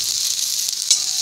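Neem leaves fry in a small amount of oil over lowered heat until crisp, giving a continuous close hiss with one brief crackle near the end.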